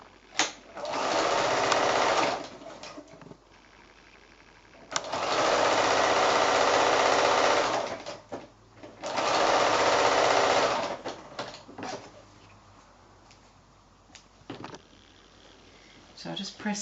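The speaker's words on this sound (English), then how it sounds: "So I'm going to sew that last one on." A sewing machine stitches sashing strips onto a five-inch quilt square in three sustained runs of steady whirring, separated by short pauses filled with light handling clicks and rustles.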